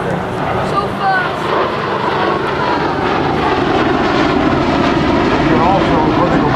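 An MV-22 Osprey tiltrotor roars steadily past at an air expo, a loud, continuous, dense engine and rotor wash heard close, with no pauses.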